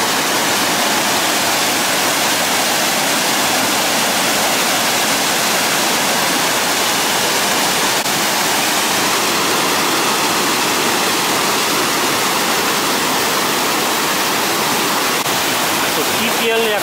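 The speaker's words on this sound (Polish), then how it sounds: "I kolejny wodospad." A Norwegian waterfall near Trollstigen pours into a carved gorge, giving a loud, unbroken rushing roar that stays constant from start to finish with no voices over it.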